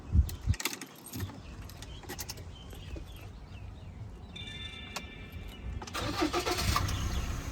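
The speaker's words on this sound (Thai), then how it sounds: "เดี๋ยวมาฟังเสียงเครื่องกันนะครับ" A 2014 Ford Ranger Wildtrak Hi-Rider with the 2.2 diesel engine: keys jangle and the starter cranks, then the engine catches and settles into a steady, close idle rumble.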